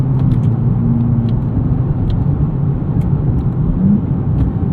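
A 2024 Nissan Z Nismo launches hard from a brake-held start, its engine roaring loud and steady with a deep low rumble as it pulls through the gears, close by and with no talk.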